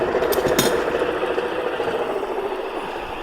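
Power drill spinning up a wheelbarrow tire used as a gyroscope, a steady whirring mechanical drone with a couple of brief clicks near the start, close and continuous without talking.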